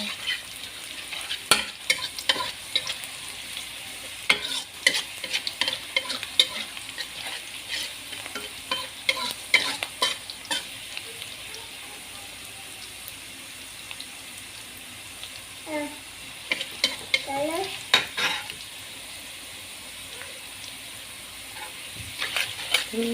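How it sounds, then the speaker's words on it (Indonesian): Eggplant frying in a pan for Betawi-style terong dicabein is stirred over and over, with repeated utensil scrapes and clatters over a constant sizzle and occasional speech. "Seperti ini terus aduk-aduk biar jangan ditinggal takut gosong."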